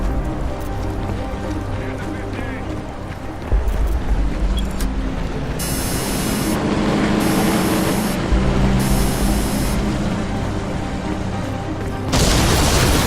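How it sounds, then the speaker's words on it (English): Crysis 2 battle explosion near a church, a heavy boom that starts a dense roar of blast and debris noise, loud and sustained, with bursts of sharp crackling on top and a fresh surge at the end. "We have a secondary explosion at the church."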